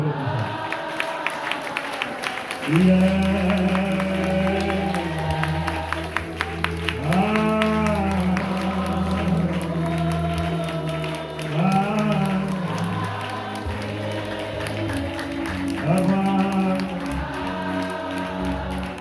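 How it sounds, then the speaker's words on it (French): A Methodist church congregation during a fasting-day worship service, clapping steadily and loudly for the whole stretch while voices sing and call out above it. "Applaudis mon Dieu."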